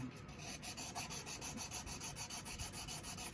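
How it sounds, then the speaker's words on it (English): A rusty pocket knife blade being rubbed with worn 400 grit sandpaper wetted with WD-40, a soft rhythmic back-and-forth rasping of quick, even strokes, close and quiet, with no talking. "We'll start off with something like a small piece of worn 400 grit, and I like to put a little WD-40 on it"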